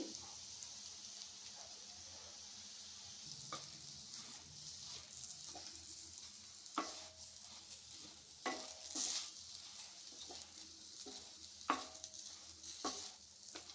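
Stuffed bitter gourd curry stirred and frying in a pan: a soft, steady sizzle with intermittent scraping and clinking of the spoon against the pan, quiet and close, with no talking.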